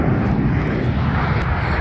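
A Turkish Airlines jet takes off at Sofia International Airport, its engine roar loud and steady throughout as a continuous broadband rumble with no voices over it.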